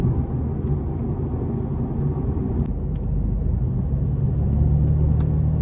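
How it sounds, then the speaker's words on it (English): 2017 Mercedes-Benz C300 Sport with a 2-liter turbo four-cylinder cruising in eco mode, a steady low engine and road rumble inside the cabin, with no talk. "you still have that 2-liter turbo engine"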